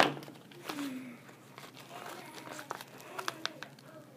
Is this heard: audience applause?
no